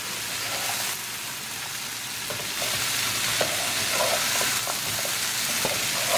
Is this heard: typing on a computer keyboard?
no